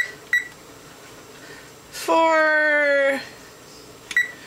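An oven's control panel being set, giving short electronic beeps, then a long steady tone of about a second, then a final beep, all close and clear, with a voice speaking briefly in the clip.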